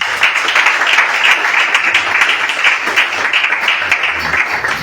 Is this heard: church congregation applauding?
yes